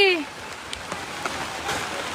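Rain falls steadily outdoors, heard while standing under a tree, as a continuous even hiss of drops on surfaces with a brief voice-like tone at the very start.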